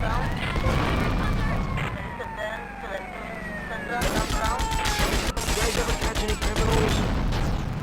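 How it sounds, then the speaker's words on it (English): Rapid bursts of explosions and gunfire in GTA: Vice City crackle over a wailing police siren, growing denser and louder in the second half, with a voice talking underneath. "Explosions."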